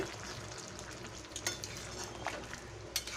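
Papaya and potato curry with ghee simmers in a pan, a soft continuous sizzle with occasional light clinks and stirring scrapes, quiet and close.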